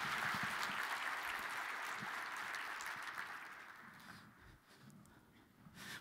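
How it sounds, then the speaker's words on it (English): Faint, distant audience applause at a keynote session, a steady wash of clapping that slowly fades over the last couple of seconds. "let's give Erica a warm round of applause"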